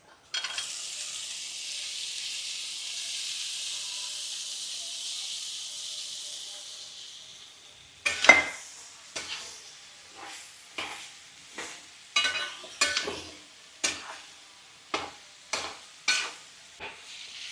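Chopped tamarind frying and being stirred in a pan: a steady sizzling hiss for several seconds, then a series of sharp scraping stirs and clatters at an uneven rhythm, close and fairly loud.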